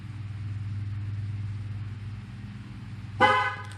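A low, steady rumble of an idling 2005 C6 Corvette, then a single short, loud horn honk triggered by the key fob near the end.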